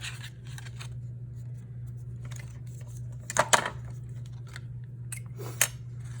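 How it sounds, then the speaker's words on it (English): Scissors cutting around the edge of paper for a chipboard mini album, a few soft close snips and rustles in bursts over a steady low hum, no speech. "Just cut around this outer edge."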